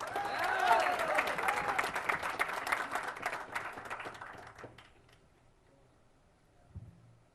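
Applause fills a hall full of seated people, strong at first, then thinning and dying away over about five seconds into near quiet, with a single soft thump shortly before the end.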